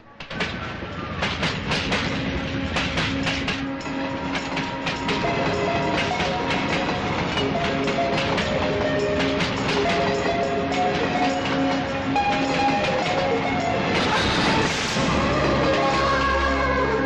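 A train at Bandra railway station makes a loud, continuous rumble with rhythmic wheel clatter and metallic squeals that keep going throughout.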